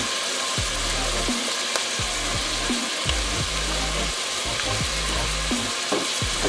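Onions fry with browned ground meat for baked ziti, a loud, close sizzle under repeated rhythmic scrapes and knocks of a spatula against the pan.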